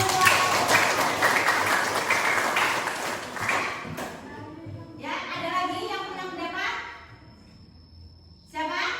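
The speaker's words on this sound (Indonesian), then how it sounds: "Tepuk tangan" A classroom of students clapping, a brisk burst of many hands for about four seconds that then breaks off, with children's voices speaking afterward in a quieter room.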